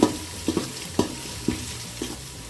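Ground masala frying in a pan for chicken biryani, a steady sizzle broken by stirring scrapes at roughly half-second intervals, close and loud.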